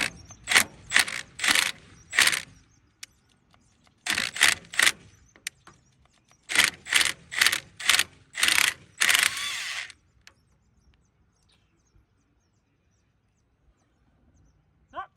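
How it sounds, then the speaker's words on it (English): Rapid bursts of an impact wrench spinning spark plugs out of a 1925 Ford Model T express truck engine, several loud rattling rips in two clusters, then quiet. "go ahead and cheat and use the impact"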